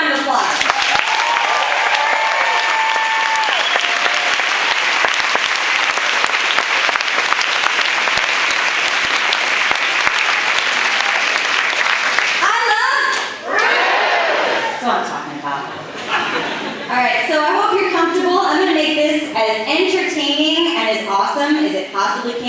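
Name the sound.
round of applause at festival opening ceremony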